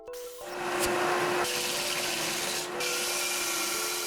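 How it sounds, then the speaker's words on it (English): A power sander smooths the freshly cut ends of chunky wooden 4x4 posts with a steady, close whirring grind and a constant motor hum, running without a break and with no talking. "I cleaned those up on the sander"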